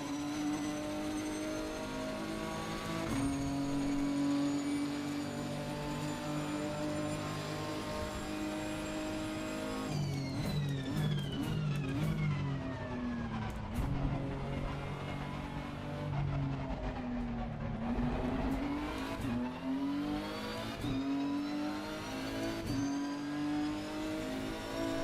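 A race car in Assetto Corsa drones loudly through a lap, engine pitch climbing through the gears, dropping on downshifts and rising again, with no talk over the constant motor.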